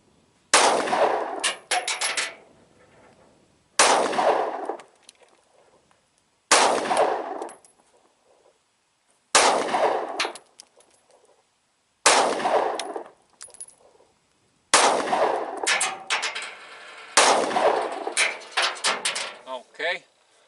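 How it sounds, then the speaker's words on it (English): Ruger handgun fired in a string of seven loud, sharp gunshots at a range, each crack well spaced and echoing briefly before silence between shots. "here goes the next round of 7"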